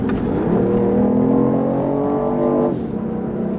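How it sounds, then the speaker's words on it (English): A BMW i8 engine revs up steadily, a smooth rising drone held for a couple of seconds before dropping off, loud and close with no talking. "It's a great sound, isn't it?"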